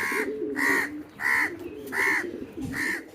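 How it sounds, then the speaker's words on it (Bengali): A crow caws five times in a steady rhythm, loud and close, each harsh call separated by a short pause. "এই জিনিসটা প্রত্যেক দিন এসে এসে আমাদের এখানে ডিস্টার্ব করতেছে কা কা করতেছে"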